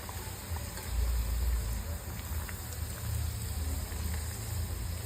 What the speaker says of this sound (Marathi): नंतर आपली कचोरी सोडून सगळ्या बाजूने फ्राय करून घ्यायचं।